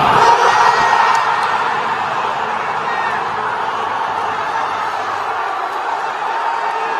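Football fans in a stadium erupt after a spectacular goal, a broad roar of crowd cheering and whooping that surges at first, then holds as a steady wash of distant noise.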